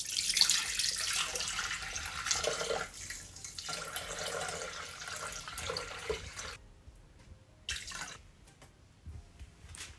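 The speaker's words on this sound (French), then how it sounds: "Donc là, je vais mettre de l'eau tiède. 650 g d'eau." Lukewarm water pours steadily into a bowl for baghrir semolina crêpe batter, a bright continuous splashing stream that stops abruptly, followed by a few short bursts of pouring.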